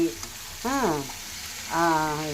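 Pasta with onions, salt, pizza sauce and red chilli sauce cooking on a high flame makes a steady close sizzle, with a voice talking over it in two bursts.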